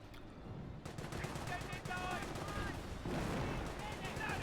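Artillery and gunfire in the Company of Heroes battle on Langres, British against Panzer Elite, heard as rapid distant bursts and booms layered under a busy, continuous battle din.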